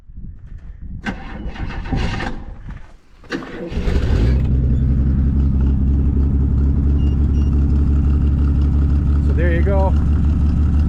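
A Chevy Nova's engine cranks for a few seconds, catches and settles into a loud, steady idle that runs to the end. People talk briefly over the cranking, and a faint whistle-like sound comes near the end.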